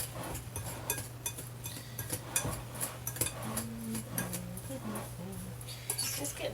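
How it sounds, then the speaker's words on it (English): A spoon scrapes and presses grainy bath bomb mixture in a bowl, making repeated light gritty scrapes and clinks up close, with faint murmurs of a voice in the background. "I'm kind of just pressing it together using the spoon."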